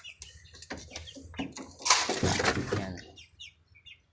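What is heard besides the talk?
chicks chirping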